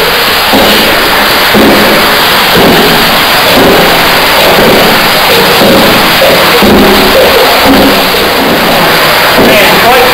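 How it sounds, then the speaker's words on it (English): Green and Carter ram pumps clank in a pump chamber, loud and close, with heavy rhythmic thumps about once per second over a constant rushing water roar. "You might not be able to hear me from that one because the pumps are quite loud."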